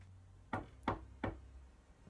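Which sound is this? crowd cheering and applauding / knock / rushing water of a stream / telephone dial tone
knock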